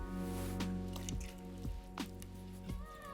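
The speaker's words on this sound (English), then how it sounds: "There's juice of 2 whole limes going into this broth." Juice of two whole limes squeezed into vegan ramen broth, a few soft wet squishes and drips over a steady background hum.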